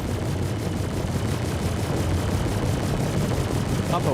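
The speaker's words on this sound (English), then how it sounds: "Come on, explosions." Continuous roar of explosions and blasts during a space ship battle in the game Star Citizen, a loud steady wash of rumbling noise with faint crackles throughout.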